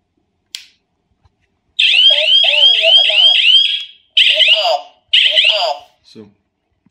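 Wireless home alarm sounds loud, close and alone: a harsh warbling electronic siren sounds in one long burst, then two shorter bursts with brief gaps between them, ending with a faint beep.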